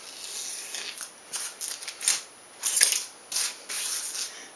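Tape is cut off the edge of a foam wing with a series of short, crisp snips and rustles, close and fairly loud, arriving in irregular bursts with brief pauses between them.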